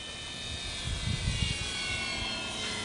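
Electric shoulder-wing model airplane motor in flight, a steady whining drone heard at a moderate distance with a slight swell midway, continuous throughout and with no voices.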